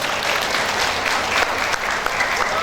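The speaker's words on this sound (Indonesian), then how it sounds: "Tepuk tangan." Sustained applause from a crowd at a STIKES Intan Martapura graduation ceremony, a dense, steady roar of clapping hands that carries through at an even loudness from start to finish.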